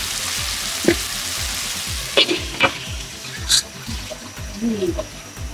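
Sliced bitter gourd (karela) frying and being stirred in a pan for karela bhaji, with a steady sizzle and a few sharp scrapes and clanks of the spatula against the pan.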